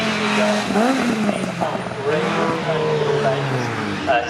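Racing cars from the MGCC Cockshoot Cup at Cadwell Park corner through a bend, with engines rising and falling in pitch as they pass, under a commentator's continuous talk.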